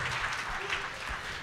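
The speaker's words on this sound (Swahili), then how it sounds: "Pigia Yesu makofi mazuri zaidi." Church congregation applauding for Jesus during a Swahili worship service, a dense steady wash of clapping with crowd voices mixed in, held at an even level throughout.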